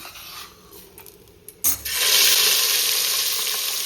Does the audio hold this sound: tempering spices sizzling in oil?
yes